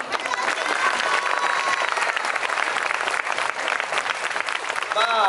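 A crowd at a Thai festival in Osaka applauds after a Muay Thai show, a steady loud patter of many hands clapping with scattered cheers, a voice speaking faintly over it near the end.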